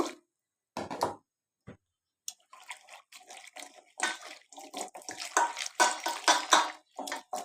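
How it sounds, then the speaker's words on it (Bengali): Dried lote fish (shutki) washed by hand in hot water, with close, intermittent splashing and sloshing that grows busier after a few quiet pauses. "এখন একদম গরম জল দিয়ে ভালো করে ধুয়ে নিব"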